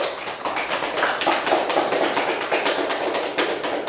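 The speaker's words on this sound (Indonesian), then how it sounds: "Ya, beri tepuk tangan." A class of young students claps briskly in an unbroken stream of dense, close, sharp beats, with no talk over it.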